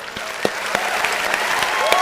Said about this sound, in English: I have to give us a round of applause.